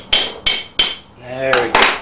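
An impact wrench drives a bolt on an axial flux alternator in a burst of sharp, loud hammering blows, five distinct hits with a brief whirring gap between them.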